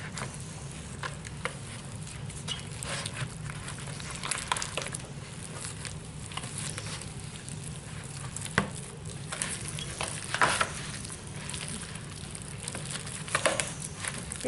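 A spoon stirs a kohlrabi dish in a pan over a steady sizzle, with scraping and soft patter running continuously close by.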